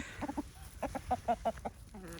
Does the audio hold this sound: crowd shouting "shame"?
no